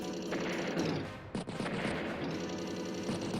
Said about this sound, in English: Artillery does shell the recon